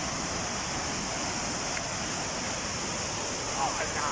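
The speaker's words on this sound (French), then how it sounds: "Bienvenue à la cascade De Glandieu." The Cascade de Glandieu waterfall, a steady, broadband rush of falling water heard from nearby, constant in level throughout, with faint voices in the background.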